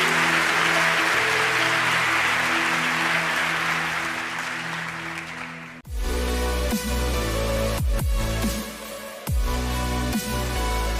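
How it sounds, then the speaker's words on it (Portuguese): Church congregation breaking into strong applause at a call to praise the Lord, a dense sustained wash of clapping that fills the space, with musical tones and instruments coming in partway through. "Dê um forte aplauso ao Senhor"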